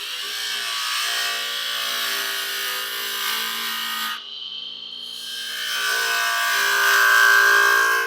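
A lathe turns a resin and wood egg while a tool shapes its bottom end, giving a steady scraping, rubbing whir that briefly cuts out and then rises again.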